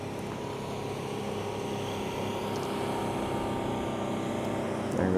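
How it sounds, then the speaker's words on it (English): A motorboat engine drones steadily in the distance across shallow water, a low continuous hum that grows slightly louder toward the end. "There goes a boat."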